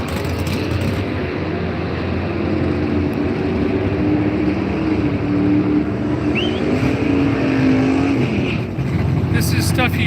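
Race cars lined up on the Las Vegas Motor Speedway drag strip rumble steadily in a loud, continuous idle drone with crowd murmur around them, and a voice can be heard briefly.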